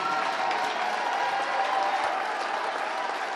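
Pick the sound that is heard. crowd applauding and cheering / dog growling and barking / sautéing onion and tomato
crowd applauding and cheering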